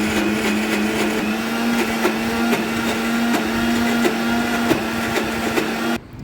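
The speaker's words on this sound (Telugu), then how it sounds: "మిక్సీ పట్టుకున్నాను దేవుడి వరకు కొంచెం" A mixer grinder (mixie) whirs at a steady high pitch with a faint rhythmic ticking, running continuously and loudly before cutting off abruptly at the end.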